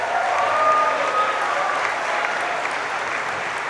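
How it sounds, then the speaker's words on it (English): Dense, steady applause from a graduation ceremony audience standing for family and friends, loud and continuous for the few seconds without a break. "So please stand up and a big cheer for your family and friends."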